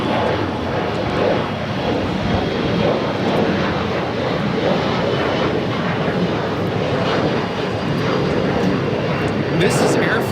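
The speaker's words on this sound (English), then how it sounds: "This is Air France, Flight 21, taking off to Paris on the 777-300ER" An Air France Boeing 777-300ER rolls down runway 24 Left at Los Angeles airport on its takeoff run for Paris, a steady, broad jet roar held at one level across the whole stretch.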